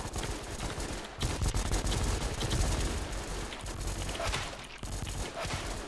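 Dense, sustained volleys of automatic gunfire from a Thai first-person shooter game, near and loud, with rapid overlapping bursts and brief pauses throughout.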